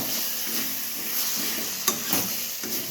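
Spice paste with green chilli and a splash of water being stirred in a pan for a Kerala-style chicken curry, a soft steady sizzle with scraping strokes of the spoon repeating every half second.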